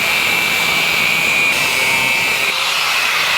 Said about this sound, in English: I'm gonna grab my glasses and my grinder.